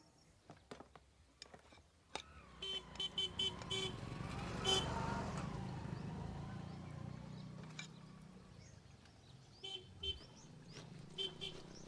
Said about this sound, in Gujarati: આ હોર્ન મારી મારીને કાન પકવી નાખ્યા.